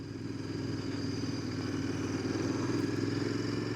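A Royal Enfield Interceptor 650 motorcycle rides along with a steady, fairly loud engine drone and road rumble, continuous throughout with no talk.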